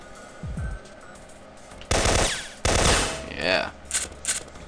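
Automatic gunfire in the video game Syphon Filter, two loud sustained bursts of rapid shots up close followed by softer clattering effects, with a brief spoken word from a player.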